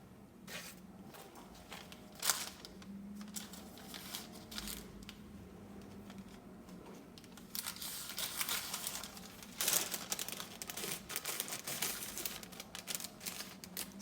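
A plastic pouch is cut open with scissors, giving close, crisp snips and crinkling rustles of plastic that come in short bursts and grow busier in the second half, with no talking.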